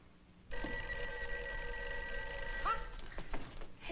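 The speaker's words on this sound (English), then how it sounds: "Phone's ringing. It should be answered." A telephone bell rings steadily and loudly, starting abruptly and holding a sustained, tonal ring for several seconds, with no talking.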